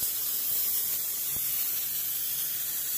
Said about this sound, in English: we have a high-pressure steam leak.